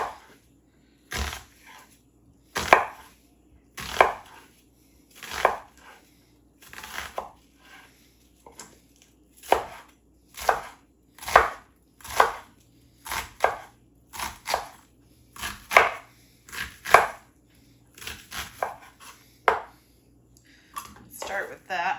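A knife chopping an onion on a cutting board for a hashbrown casserole: about twenty distinct, fairly regular thuds close by over a quiet background, with a person talking between some of the cuts.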